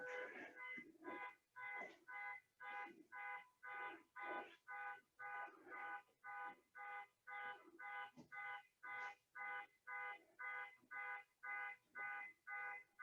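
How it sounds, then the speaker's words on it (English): A car alarm sounds from a nearby Jeep outdoors, a steady rapid string of identical electronic beeps about two per second, moderately distant and fairly faint, repeating without pause for over ten seconds. "Now that car alarm's annoying."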